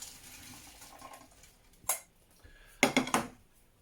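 Cooked potatoes drained from a pot in a home kitchen, heard as two short, close splashing bursts of water pouring out over a low background hiss, with no talk.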